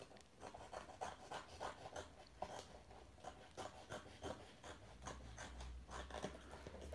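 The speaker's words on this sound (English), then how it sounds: "So we're just cutting along the edge." Scissors cut a round lampshade panel along its PVC edge, making quiet, rhythmic rasping snips that repeat steadily, close to the microphone and with no talking.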